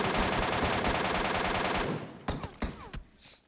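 Loud, rapid automatic rifle fire from an MK rifle in PUBG, a dense continuous burst for about two seconds followed by a few separate sharp shots.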